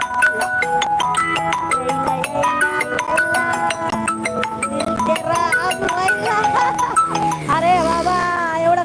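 A phone ringtone plays a bright, repeating electronic melody, loud and close, for several seconds.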